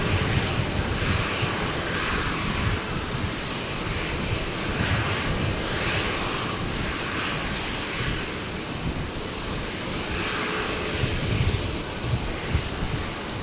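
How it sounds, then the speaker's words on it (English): Qantas Boeing 737 arriving at Brisbane Airport, a loud steady jet engine roar sustained throughout with slight swells, heard from nearby with no talk over it. "Qantas 622. The 7-3 coming in from Melbourne."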